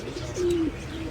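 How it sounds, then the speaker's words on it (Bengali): A single short, soft coo from a Pakistani pigeon of a mati type is heard close by, one low steady hum over faint background noise. "এটা হচ্ছে পাকিস্তানি কবুতর"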